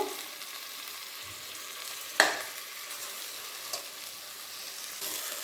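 Biryani masala with tomato paste, mint and coriander frying in a pan as it is stirred: a close, even sizzle broken by a sharp spoon scrape and a few lighter knocks, no voices.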